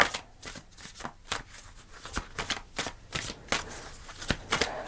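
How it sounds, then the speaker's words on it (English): Tarot cards are shuffled by hand in a quiet room, producing a quick, uneven series of soft riffling flutters and taps, close and fairly faint, with no talking. "Let's pull a final card for you."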